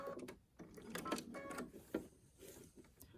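Sewing machine stitching a cornhole bag at about a 1.8 stitch length, quiet short bursts of mechanical whirring and clicking that start and stop irregularly, close by and soft.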